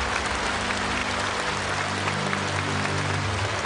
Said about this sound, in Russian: открывается бурными аплодисментами